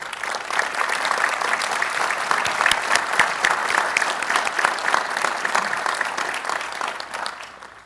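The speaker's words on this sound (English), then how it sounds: "Let's give a round of applause to Mr." A commencement audience in a large hall gives Jim Rohr a sustained round of applause. Loud dense clapping runs throughout with a faint crowd murmur, then tapers slightly at the end.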